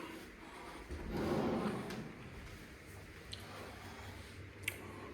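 Drawer in a hotel room in Sorrento sliding open or shut with one soft, quiet rumbling scrape, followed by faint light clicks in a quiet room.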